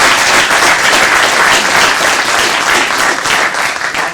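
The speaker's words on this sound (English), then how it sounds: "Let's give him a quick round of applause" Steady applause from a seated academic panel audience, dense and loud, sustained throughout without a break and fading slightly at the end.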